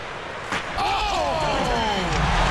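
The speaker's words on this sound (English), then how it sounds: "Oh! And he slams that one in." A basketball dunk slammed through the rim during a game involving Toronto, a sudden loud impact followed by a roaring crowd that swells and stays loud, with commentary over it.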